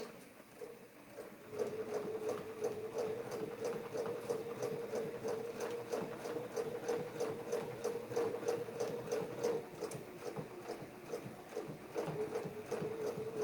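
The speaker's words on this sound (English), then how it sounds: "As long as that foot is touching the template, you will stitch the shape of the template." A sewing machine stitches around the edge of a maple leaf template, with fast, steady, evenly spaced needle strokes close by. The run goes on for about twelve seconds after a brief quieter start, with no talking.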